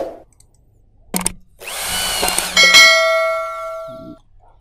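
A Master-brand power drill whirs up after a sharp clank, holding a loud, steady high-pitched whine for a few seconds before stopping, with no talk.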